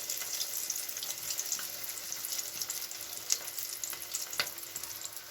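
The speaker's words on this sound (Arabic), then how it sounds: "كندير له هكايا في داك الطحين والبيض بهذه الطريقه هذه، وكنحطو في الزيت" Stale bread dipped in flour and egg fries in hot oil with a continuous close hiss and sizzle, dotted with small pops and crackles, steady throughout with no talking.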